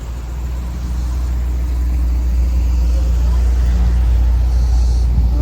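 SRT Jeep pulling away, a low steady engine rumble that builds gently and holds, fairly close, with faint voices in the background.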